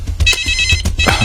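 A mobile phone ringtone rings loudly and close, a repeating electronic melody with steady tonal beeps over about a second, with no talking.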